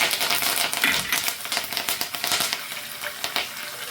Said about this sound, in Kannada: ಇವಾಗ ಇಷ್ಟನ್ನು ಸ್ವಲ್ಪ ಫ್ರೈ ಮಾಡ್ಕೊಳ್ಳೋಣ